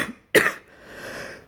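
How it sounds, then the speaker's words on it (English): A single sharp cough from someone talking on a late-night podcast, close and abrupt, followed by a soft exhale and faint breathy murmur. "With the exception of that cough"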